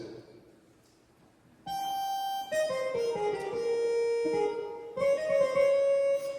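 An electronic keyboard plays a bright, sustained synth patch, several notes and chords ringing out clearly after a quiet start.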